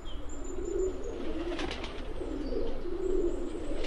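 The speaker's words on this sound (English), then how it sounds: "Whoa, it's a pigeon feeding frenzy." Pigeons coo in a park within the video game A Date in the Park, several soft repeated low coos from a close flock with faint chirps and rustle around them.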